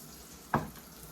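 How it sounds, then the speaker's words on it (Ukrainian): A single sharp hiss of eggplant rolls hitting boiling sunflower-style cooking oil in a frying pan, sudden and close, quickly fading back to a low background. "кладемо до пательні на киплячу олійку. Вона вже в нас прямо шкварчить."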